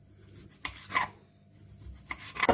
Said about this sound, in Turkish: ince ince dilimler yapıyorum ki hamurun üzerinde fazla kaba olmasın